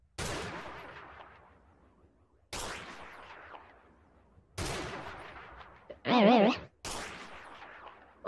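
Separate loud gunshots in Minecraft played with Optifine, each followed by a decaying echo, with a warbling tonal game sound in between.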